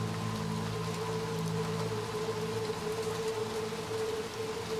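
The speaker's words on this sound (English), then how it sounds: "Nice heavy rain." Heavy rain pours steadily in the video game Little Nightmares 2, a dense, even wash of drops on the ground with a low ambient drone beneath, no voices.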